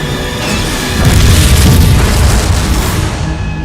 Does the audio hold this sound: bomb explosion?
yes